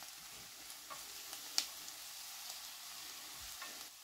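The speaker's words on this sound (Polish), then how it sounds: "Dołożymy teraz groszek. 2-3 minuty dusimy i doprawiamy do smaku solą i pieprzem." Peas and gently softened onion simmer in a pan, a low steady sizzle with faint stirring scrapes and one sharp utensil click near the middle; no talking.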